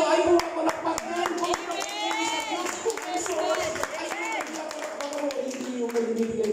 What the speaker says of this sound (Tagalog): At kayo ay pumapalakpak din.